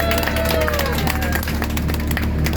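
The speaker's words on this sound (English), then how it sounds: "give her a nice round of applause" Passengers aboard the Harbour Hopper amphibious tour boat in Halifax, Nova Scotia applaud together, a steady wash of clapping and crowd noise with some cheering mixed in, loud and close throughout.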